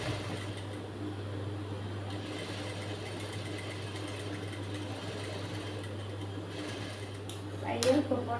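A sewing machine stitches blouse fabric along the back side of the garment, giving off a steady, close motor hum that runs unbroken, with a brief louder clatter near the end.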